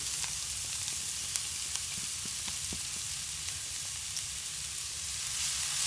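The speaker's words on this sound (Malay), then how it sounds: "Kita tumis sebentar." Spring onion stalks and garlic sautéing in a pan, a steady close sizzle with occasional small pops and faint stirring, no voices.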